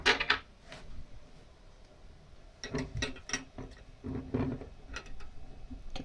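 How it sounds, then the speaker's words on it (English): Screw being driven down during assembly of a mid-range gaming PC, a series of small, close mechanical ticks and scrapes coming in irregular bursts, with no talking. "We're going to get our screw that keeps these on. Just screw that down."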